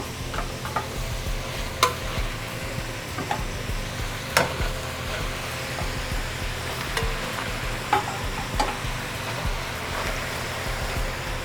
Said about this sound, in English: Now we're going to add the rabbit back to the pan.